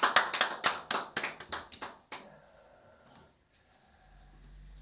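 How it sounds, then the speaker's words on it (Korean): Congregation applauding in a Korean church service: about a dozen sharp claps in an uneven burst that stops after two seconds, followed by quiet room tone and faint low hum. "우리 예배를 받으신 하나님께 영광의 박수 올립니다."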